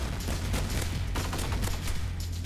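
An AA-12 automatic shotgun fires in rapid repeated blasts in an online shooter game, a loud, dense, continuous barrage with no pause.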